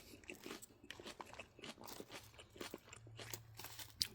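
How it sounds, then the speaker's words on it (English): Crisp lettuce and tortilla chips in a Santa Fe style chicken salad crunching between the teeth, a steady run of close, sharp bites and chews with no talking. "with the crunch from the tortilla chips."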